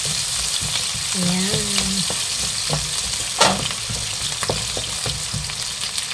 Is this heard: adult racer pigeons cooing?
no